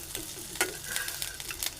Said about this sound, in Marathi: आता आपण ह्याला पलटी मारूया.